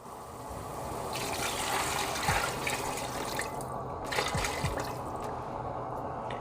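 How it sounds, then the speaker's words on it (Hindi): Yakhni stock poured into fried biryani masala in a cooking pot, a continuous close liquid rush with splashing and a few drips, moderately loud and steady with no voices. "डालेंगे यखनी।"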